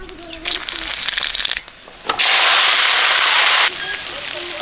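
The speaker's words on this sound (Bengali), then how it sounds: "তেল গরম হয়ে গেছে, শুকনো লঙ্কা আর জিরে ফোড়ন দিয়ে দিচ্ছি।" Dried red chillies and cumin seeds hit hot mustard oil and burst into loud, dense crackling and sizzling, a sharp surge after a quieter start with a short pause, staying strong for over a second before easing back.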